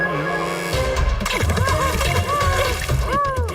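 Strong, fast-flowing water rushing and splashing in a cartoon scene, a continuous loud churning wash with splattering bursts under background music.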